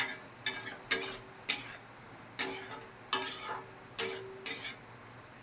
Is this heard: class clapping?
no